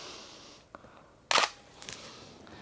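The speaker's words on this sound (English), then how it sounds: "Let's try taking a picture now." A Canon 1D Mark II digital SLR takes a picture with one sharp, close mechanical shutter snap amid quiet room tone, followed by a couple of fainter small clicks.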